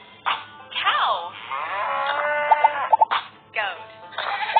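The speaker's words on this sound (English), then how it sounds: "Cow." A cow moos in long, drawn-out calls, then repeats them closely. The calls are loud and clear and come from a children's picture-matching learning game about farm animals.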